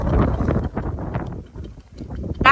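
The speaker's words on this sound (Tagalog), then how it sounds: "ang lakas ng hangin" Strong gusty wind buffets the microphone in loud, rumbling bursts that ease briefly before surging again, outdoors among potted succulents.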